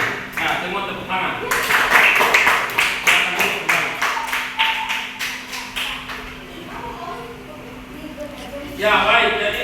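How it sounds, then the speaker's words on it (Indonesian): A classroom of students claps for a student group: a run of fairly rhythmic, close claps that swells, then fades, with a teacher's voice nearby at the start and end. "Nah, semua tepuk tangan."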